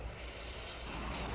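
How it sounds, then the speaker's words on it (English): Rocket engines igniting at a NASA launch, a steady, dense broadband roar filling the whole moment with constant loudness and no voices on top. "We have ignition. All engines are running."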